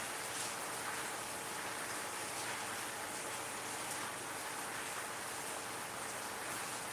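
Heavy rain falls in a dense, steady hiss with no breaks, distant and faint, and nobody talks over it.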